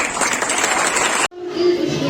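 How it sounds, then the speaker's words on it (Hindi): A crowd claps loudly in dense, sustained applause at a school Independence Day celebration on 15 August, cutting off abruptly, followed by quieter noise and a faint voice. "उनके उत्साहवर्धन के लिए जोरदार तालियां"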